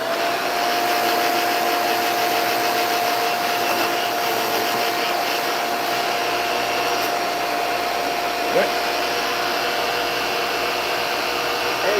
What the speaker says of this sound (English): Now, this suction hole for this vacuum here is right in the middle.